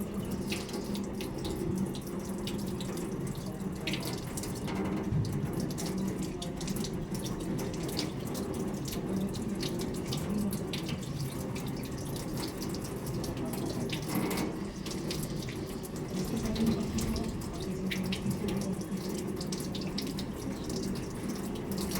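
Tap water running steadily into a sink while hands are rinsed for a surgical handwash, a continuous splashing rush with small fluctuations as the hands move through the stream, close and unbroken throughout.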